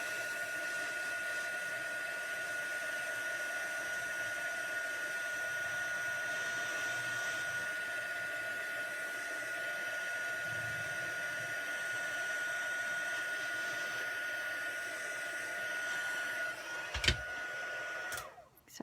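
A heat embossing tool blows hot air over embossing powder on a card with Queen Anne's lace stamps, a steady whirring hiss running nearly the whole time before a click as it switches off.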